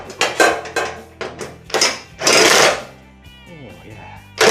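Ratchet spanner holding a bolt during a Ford Fiesta XR2 retro rallycross car rebuild gives close, loud bursts of rapid metallic clicking and clanking in irregular spurts, with a brief murmur of voice partway through.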